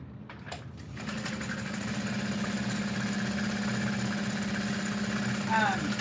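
A sewing machine stitching a tote bag runs in one continuous, fast, close-up whir after a few brief knocks, with a short squeak near the end.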